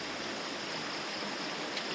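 Steady rushing stream water flowing below a campsite by a bridge, a continuous broadband wash with no other sounds.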